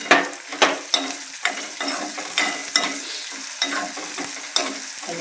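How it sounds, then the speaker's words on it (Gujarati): Peas and green garlic fry in a pan for Gujarati brinjal bharta (ringan nu oro), with close, loud spoon-stirring scrapes recurring roughly every half second over a continuous low sizzle and no talking. "અને થોડી વાર હવે આપણે તળવા દઈશું"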